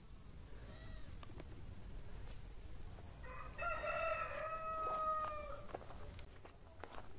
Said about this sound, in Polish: Kogut obwieścił uroczyście zakończenie prac.